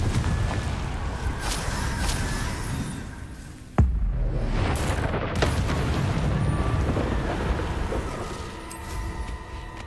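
A Confringo fire spell goes off in Hogwarts Legacy with a sudden sharp blast that drops into a rushing, roaring whoosh. Dense battle noise continues around it, loud and close, with no voices.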